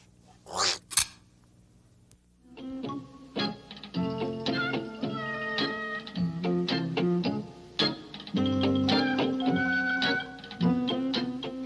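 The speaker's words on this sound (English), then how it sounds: "This is my kitten, Dusty." A kitten meows a couple of times up close near the start, followed by bright, bouncy background music that carries on to the end.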